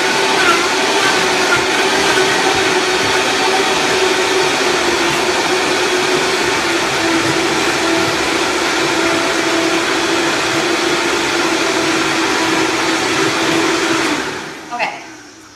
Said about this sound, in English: this is the Vitamix